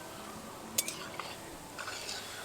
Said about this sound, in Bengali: এভাবে আমি নেড়ে চেড়ে মিষ্টিগুলোকে খুব ভালোভাবে সুন্দর কালার